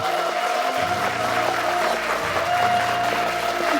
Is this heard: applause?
yes